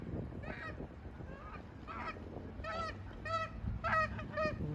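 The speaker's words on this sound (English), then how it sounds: "There's some Canadian geese." Canada geese honking at Creamers Field Migratory Bird Sanctuary in Fairbanks, Alaska, a series of distinct nasal honks in loose bursts, growing louder and closer toward the end over a low background rumble.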